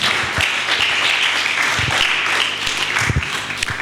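Hand clapping from a church congregation during a sermon fills the clip, dense and steady with a few sharper individual claps standing out near the front.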